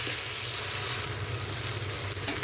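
Tomatoes fry in hot oil in a pan, giving a steady, close sizzle with constant crackling and no talk over it.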